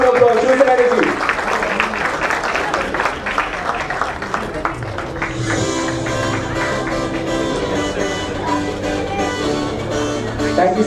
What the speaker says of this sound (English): Please have a huge round of applause. Show some energy.